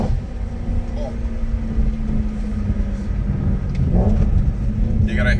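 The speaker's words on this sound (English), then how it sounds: "Enjoy the noise that coming out of the tailpipe." A BMW E90 M3 with a six-speed gearbox sends a steady, deep exhaust drone from the tailpipe, a continuous low rumble holding at an even level throughout with a slight swell near the end.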